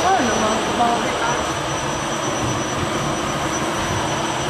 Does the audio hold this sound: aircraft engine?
yes